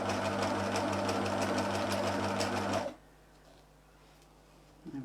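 A sewing machine runs a zigzag stitch down fabric edges held tightly together, a fast steady mechanical whir lasting nearly three seconds, close and loud, then stopping to near quiet.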